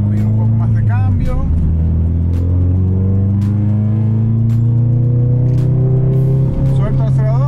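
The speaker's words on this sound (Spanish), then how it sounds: "cuando yo piso el clutch y freno, él me va a acelerar como el punta talón que hacen en los drift" Ford Focus RS engine with automatic rev-matching, its steady loud drone rising and blipping as the driver brakes, clutches and downshifts, while someone talks over it inside the car.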